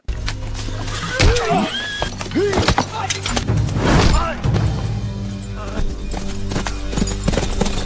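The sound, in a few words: horses galloping, cavalry chase in film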